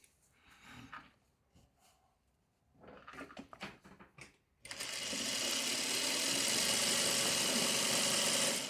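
Sewing machine joining two halves of a piece, running steadily and loudly without pause through the second half after quieter handling noises and brief clatter at the start.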